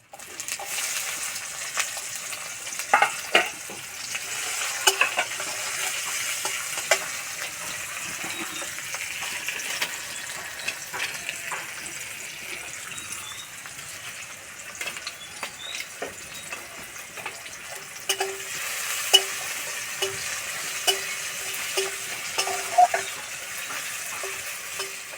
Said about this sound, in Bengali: তেলে দেবো অল্প একটু হিং এবার দেবো পেঁয়াজ কুচি